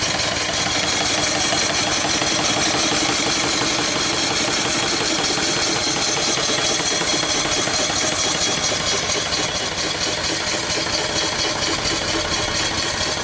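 An antique steam engine with its boiler runs steadily, a dense continuous chugging and rattling mechanical churn close by that holds at a loud even level throughout, with no voices.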